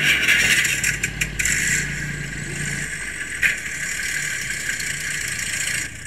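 A Jaguar car engine starts and idles in the Roblox game Driving Empire: a low, moderate rumble with a few short rattling bursts early on, then a steady hum.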